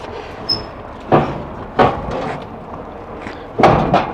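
The rear pull-out storage bumper of a 2012 Keystone Cougar RV slides out with a series of four hollow metallic clunks and thumps, close by, spaced unevenly over a few seconds.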